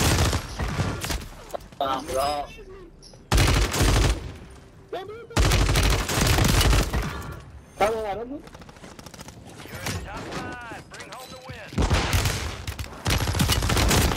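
Renetti pistol fire in Call of Duty Warzone 3, after the weapon was nerfed: loud bursts of rapid shots come in blocks between stretches of someone talking.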